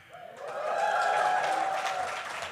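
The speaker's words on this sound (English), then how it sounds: "I could get everyone in here to cheer with only 2 words" Audience at a violence prevention conference general session breaking into a short burst of cheering and applause that swells and fades over about two seconds, filling the hall.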